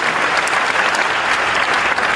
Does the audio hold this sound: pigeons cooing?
no